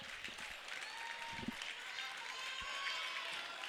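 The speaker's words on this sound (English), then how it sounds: "They're clapping, they're waving." Crowd at a high school volleyball match clapping and cheering, a dense, steady wash of applause and noise filling the whole moment, with a few low thumps beneath it.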